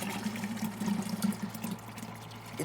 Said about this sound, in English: we've got to pour it into this butter churn